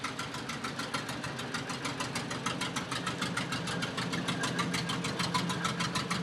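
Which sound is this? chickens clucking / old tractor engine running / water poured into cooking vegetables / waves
old tractor engine running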